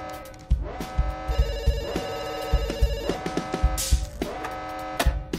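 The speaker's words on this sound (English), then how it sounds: "Please pick up the phone." An in-game telephone rings insistently in a heist video game, with bright electronic bell tones repeating over a rhythmic, thumping musical backing, loud and close with no voices.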